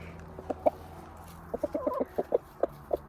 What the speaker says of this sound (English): Often a rooster will find something good to eat and he'll cluck and he'll call the girls over